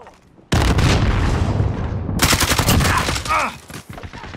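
A frag grenade in Call of Duty: Modern Warfare bursts with a sudden loud boom, followed by a second blast and rapid close gunfire with shouting.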